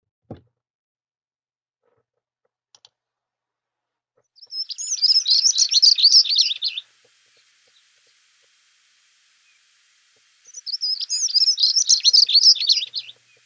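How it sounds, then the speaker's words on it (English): Two bursts of high, rapid, warbling birdsong from a dunnock, each lasting about two seconds, separated by silence. "Another little brown bird that is very common in the countryside, very widespread, is the dunnock."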